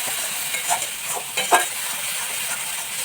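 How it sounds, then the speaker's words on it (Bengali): Spice paste with ginger-garlic paste fries in a pan, giving a steady sizzle with a few short bursts of spatula scraping. "এর মধ্যে আদা রসুন বাটাটা আমি দিয়ে দেবো। তো এটা আর একটু ভালো করে কষে নেব।"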